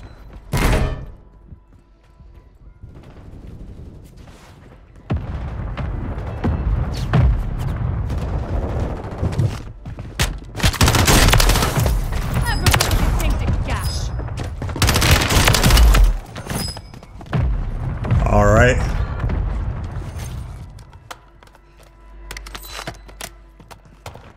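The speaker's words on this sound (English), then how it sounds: "Hostile mortar strike in the area." Mortar strike explosions and gunfire in a combat video game, heavy booming blasts and rapid shots building into a loud, dense barrage, then thinning out near the end.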